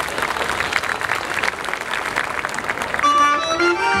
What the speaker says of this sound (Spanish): ¡El aplauso! ¡La palma!